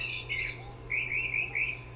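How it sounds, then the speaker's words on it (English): Small bird Beanie from the PS1 video game Croc chirps in bright repeated tweeting phrases over a steady low game hum, close and moderately loud, with no talking. "So I got Beanie the bird, just a small bird carrying a big crocodile."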